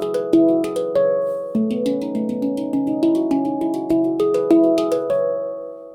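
Handpan (RAV) played as a push and pull exercise, clear ringing metallic tones struck one after another in a steady pattern, each note decaying softly, alone and close.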